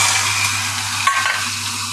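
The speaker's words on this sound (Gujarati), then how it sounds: "તો તેલ ગરમ થઈ ગયું. એમાં રાઈ નાખશો," Hot oil sizzles for a tempering of mustard seeds, cumin, asafoetida and chillies for sev khamani, a steady soft hiss under a low hum with one small pop midway, no voices.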